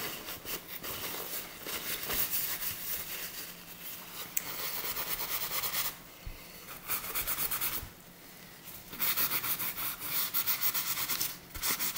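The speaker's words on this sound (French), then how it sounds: "Je frotte un peu pour enlever le surplus." Paper towel rubbed over a handmade steampunk card to wipe away excess, giving a steady broadband scrubbing hiss in long strokes with two brief pauses, close and fairly quiet.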